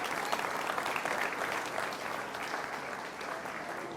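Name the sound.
applause for grand champion exhibitors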